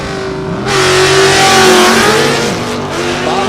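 A 1988 Ford Mustang drag race car from Fort Wayne, Indiana revs hard and close, its engine note climbing and swelling loudly with rising harmonic tones before easing off slightly.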